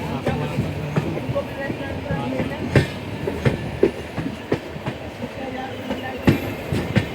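A moving train clatters steadily along the rails, its rhythmic clickety-clack knocks and thuds loud and close under a continuous rumble, with some talking faintly mixed in.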